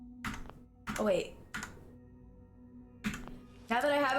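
Computer keyboard keys clacking in scattered bursts of a few strokes each during Fallout 4 play, with a person talking over and between the clicks.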